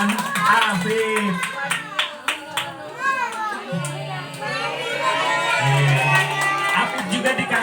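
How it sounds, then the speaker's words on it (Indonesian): Young children in a flood-relief literacy session clap for two classmates, scattered claps mixed with lively kids' voices and an adult talking over them. "Tepuk tangan buat Gio dan Afif."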